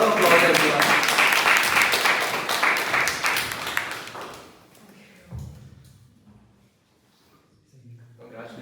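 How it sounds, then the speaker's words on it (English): A Toastmasters club meeting audience gives a round of applause, loud dense clapping for about four seconds that fades out, followed by quiet room noise and a few soft thumps. "Please welcome Toastmaster with a round of applause, everyone."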